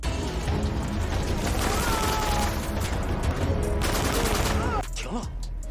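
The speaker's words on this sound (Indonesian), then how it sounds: "mereka pun terus ditembaki pihak musuh dari arah atap" Sustained volleys of gunfire and explosions from a war film battle, with enemy soldiers firing down from a rooftop, loud and continuous with dense bursts throughout, easing slightly near the end.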